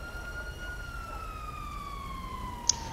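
An ambulance siren in GTA V, a steady high tone that drifts slowly downward at moderate distance over a low background rumble, with one brief sharp click near the end.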